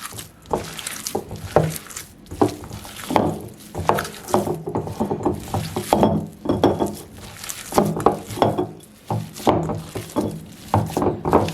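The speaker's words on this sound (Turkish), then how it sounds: "Şimdi bunları iyice karıştırıyorum arkadaşlar." Ground beef and garlic worked together in a bowl, giving a run of irregular wet squelches and clinks of utensil against the dish, close and steady with no talk.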